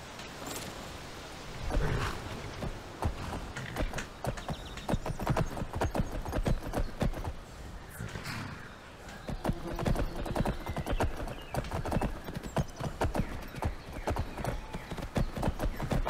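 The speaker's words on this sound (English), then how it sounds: "It is not every day that you find a horse in Skyrim" Horse hooves clip-clop steadily in the video game Skyrim, a close, continuous run of hoof strikes with an occasional whinny and game ambience behind it.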